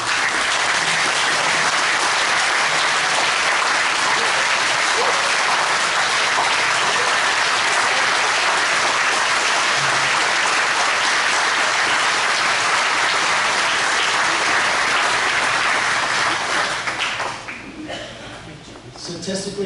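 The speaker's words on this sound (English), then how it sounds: "Please stand as we give you a round of applause" A gala crowd at a rugby club's 50th anniversary gives a long, loud standing ovation to its 1975–1985 legends, dense continuous clapping that holds strong for about seventeen seconds before fading into murmurs.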